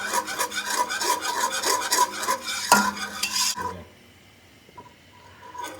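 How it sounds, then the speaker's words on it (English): A spoon scrapes and stirs flour into a roux in a pan for macaroni and cheese, rapid rhythmic rasping strokes up close, ending in a sharp clink before near quiet. "Just slowly add the flour and stir it in there."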